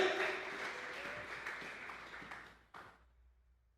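A church congregation applauds during a Sunday service, a dense wash of clapping that is fairly soft and fades out after about three seconds, ending in near silence.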